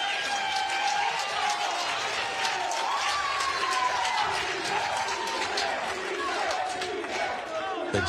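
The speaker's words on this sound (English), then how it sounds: "The chant is CJ" At a Veolia Lakeland Open beach volleyball match, an arena crowd chants a player's name in a dense, continuous roar of voices with cheering mixed in, loud and sustained throughout.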